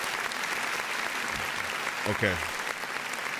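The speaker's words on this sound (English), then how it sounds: "Round of applause for Takaya Imamura." An audience claps in a round of applause during a gaming podcast, a steady patter of hands under brief talk.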